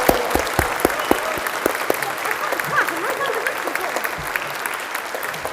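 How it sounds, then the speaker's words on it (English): A church congregation at Bothwell Parish Church claps in sustained, moderately loud applause with dense overlapping hand claps, and a voice talks faintly beneath it. "can we give an even louder round of applause for Sarah"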